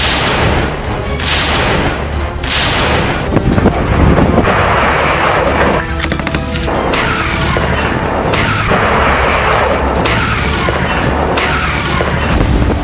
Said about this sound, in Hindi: रूस पर यूक्रेन का मिसाइल हमला।